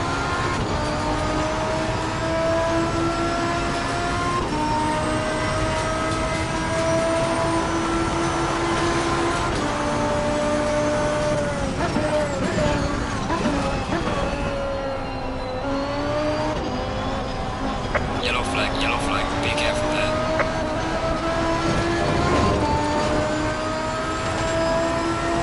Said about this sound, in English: I'm pretty sure it is a V12 in the background,